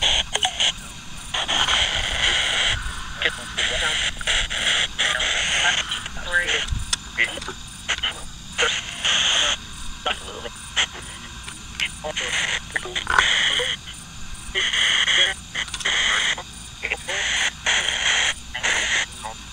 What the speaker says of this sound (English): I'll turn off the sound bank and scan just FM.